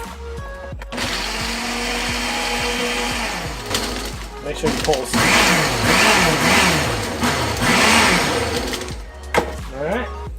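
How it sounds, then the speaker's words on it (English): Ninja blender whirring as it blends a pina colada, a loud steady motor roar that surges and labours in pulses as the ice and fruit churn, with people talking over it. "Ninja blender."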